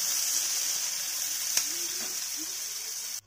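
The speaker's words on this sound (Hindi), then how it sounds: "तो फ्रेंड्स ये हमारे प्याज अच्छे भुन चुके हैं।" Onions frying in a pan of masala for a wedding-style aloo gobhi: a steady, loud hiss of sizzling oil, close by, with a single brief clink midway and no talking.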